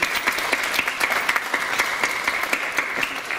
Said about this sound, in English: we'd like to give you a big round of applause on being parents of the potential members of the class of 2018